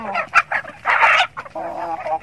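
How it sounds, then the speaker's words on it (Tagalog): Native chickens clucking at feeding time: several close, loud clucks and short squawks tumble over one another in quick succession, with a brief louder burst in the middle. "So heto na yung mga manok natin guys,"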